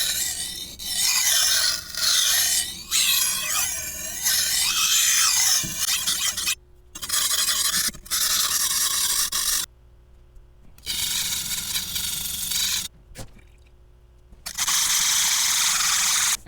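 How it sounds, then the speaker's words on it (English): A steel knife blade is drawn slowly back and forth across a 1,000 grit whetstone, each long rasping stroke separated by brief pauses, close and steady in rhythm. "And we're just gonna be slowly rubbing it back and forth like so."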